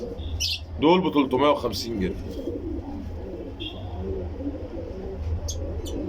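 Pair of nash pigeons, Alexandrian breed, cooing in soft bursts early on, then faint chirps beneath someone talking over a steady low background hum.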